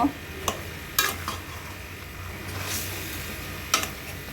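Chicken bhuna with onion and green chili paste is stirred in a pan after salt goes in: sharp, scattered spoon scrapes and clicks over a soft, steady sizzle, with no talking.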